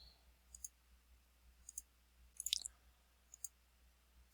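Computer mouse buttons clicking in quick single and double clicks, close and crisp, over a quiet background hum.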